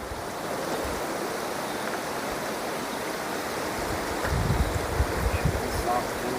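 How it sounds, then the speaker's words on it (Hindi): The Choral River near Indore flows with a steady broadband rush of moving water at moderate level. Low thumps and handling noises join in near the end. "इधर आपकी ये चोरल नदी बह रही है।"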